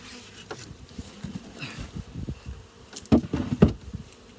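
Honey bees buzz around an open hive, a low drone with individual bees passing close, louder bursts near the end among faint handling noises.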